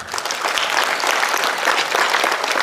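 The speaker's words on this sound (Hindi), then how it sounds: "एक बार नायब जी के लिए जोरदार ताली बजा के दिखाओ" Loud, dense applause from a large crowd at a political rally in Haryana, steady clapping with no voices.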